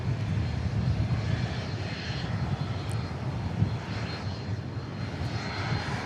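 A passenger airplane departs Dallas Love Field at night, its engines a loud, continuous broadband roar that holds steady throughout, heard alone without voices.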